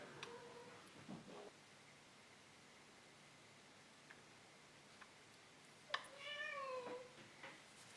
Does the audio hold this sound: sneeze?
no